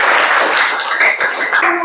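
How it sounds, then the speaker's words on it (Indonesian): Classroom clapping after a group answers a question correctly, a short burst of hands close by with a faint voice underneath. "Tepuk tangan dulu."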